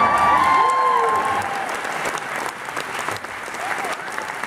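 An audience claps steadily at a live show, a full room of applause with a few whistles and cheers on top, loud and sustained throughout.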